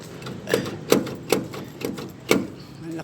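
Rear power door lock on a 1995 Mitsubishi L300 van cycling, giving five or six sharp mechanical clacks at uneven intervals, close and fairly loud with no speech.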